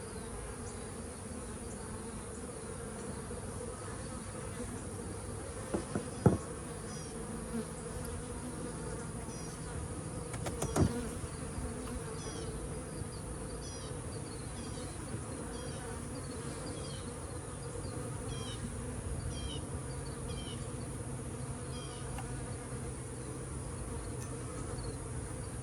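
A nuc colony of bees hanging in a tree drones on continuously, a soft, even buzzing with a few faint ticks and knocks over a long stretch, with no talking.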